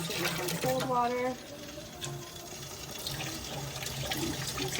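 Cold tap water runs steadily into a pot in a kitchen sink, a continuous close splashing hiss, with a voice speaking briefly near the start.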